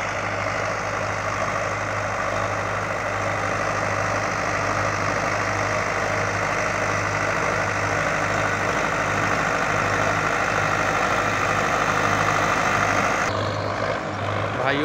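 A Sonalika 60 Sikander tractor engine with a 7-foot rotavator drones steadily throughout, a constant low rumble with a dense mechanical roar, close by and unchanging, with no speech.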